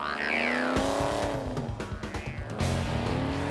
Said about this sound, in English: Driving the Superbird hard is an experience because this is a big machine.